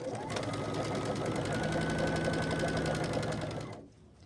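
A sewing machine stitching quilt sashing onto sewn rows of blocks, running in one steady, fast, close whirring burst for nearly four seconds before stopping.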